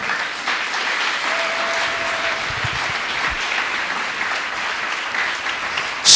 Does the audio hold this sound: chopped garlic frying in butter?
no